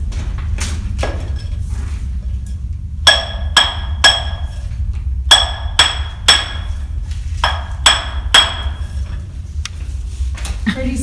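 Steady metal-on-metal hammer blows strike a drill steel held against rock, landing in a regular rhythm with bright ringing clinks, close and loud over a low rumbling background.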